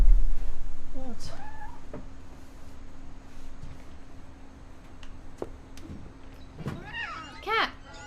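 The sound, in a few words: cat meowing in the video game What Remains of Edith Finch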